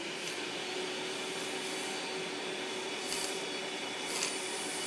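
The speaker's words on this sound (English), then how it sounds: "Oh, vacuum cleaner." A vacuum cleaner sucks dust out of a laptop, giving a steady, loud broadband whoosh that runs unbroken throughout, with brief rasping scrapes partway through.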